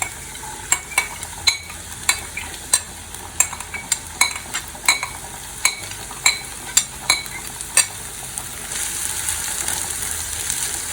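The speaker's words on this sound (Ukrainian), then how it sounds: "Та підігрілася наша олійка. Закидаємо сюди цибулю." Chopped onion dropped into heated cooking oil in a pan for borscht, a steady close sizzle with a string of sharp metallic clinks and taps from stirring, the frying hiss swelling louder toward the end.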